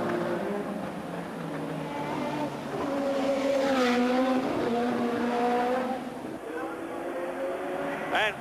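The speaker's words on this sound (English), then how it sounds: "And there goes Senna, and it's only 7 seconds now." A Formula One car at the 1984 Monaco Grand Prix screams past with a rising and falling engine whine, loud and close, while a commentator talks over it.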